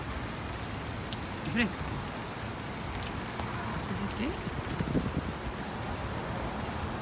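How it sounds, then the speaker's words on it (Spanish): Steady rain falls on a cloudy day in Escazú, a continuous soft hiss of drops on surfaces, while a person talks in Spanish over it. "Bueno, todo está lloviendo. Miren."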